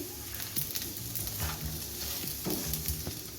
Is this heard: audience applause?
no